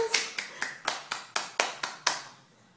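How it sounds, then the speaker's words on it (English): Eight crisp hand claps ring out in a steady rhythm, close and fairly loud, each with a sharp attack and short decay, ending in quiet. "Clap your hands!"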